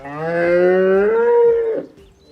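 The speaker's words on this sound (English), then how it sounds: "Jon Lovitz kept getting interrupted by the cows mooing" On a farm, a cow lets out one long, loud moo right up close, holding steady before it trails off into quiet.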